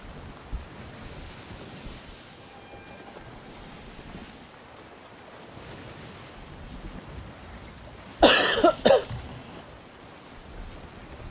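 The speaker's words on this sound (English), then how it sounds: "The waves are a bit crazy" Ocean waves wash steadily while sailing alone in the video game Sea of Thieves, a low continuous surge with wind, broken near the end by a short loud burst of splashing spray.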